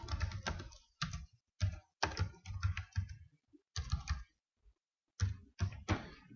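Close, quiet keystrokes on a computer keyboard, coming in quick bursts of clicks broken by brief pauses, with no voices.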